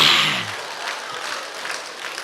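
Congregation applauding during a church retreat sermon, a brief burst of clapping that fades quickly into a soft, lingering room murmur.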